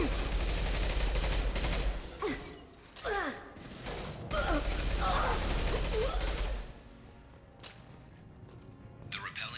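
Gunfire rattles through a Mass Effect 2 firefight, with dense bursts and metallic impacts under squad voices calling out, easing later to quieter scattered shots.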